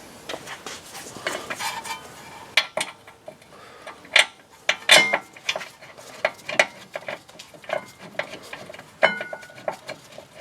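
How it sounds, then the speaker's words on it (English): Extended gear wrench ratcheting as it tightens a rear brake bolt on a 2014 Honda Accord, giving a run of sharp metallic clicks and clanks in irregular bursts, close and fairly loud, with no talking. "we'll get that tightened up using a extended gear wrench"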